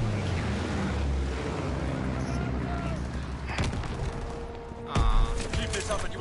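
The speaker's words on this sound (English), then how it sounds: "Enemy mortar fire incoming." Enemy mortar fire in a combat video game: distant booming impacts and crackling gunfire over a rumbling battlefield bed, with a sharper, louder blast near the end, heard under game voice lines.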